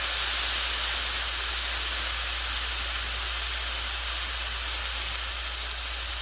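Loud, steady broadband hiss of steam rising from liquid on a hot cast iron grill while cheese dogs cook, unbroken and close, with no talking.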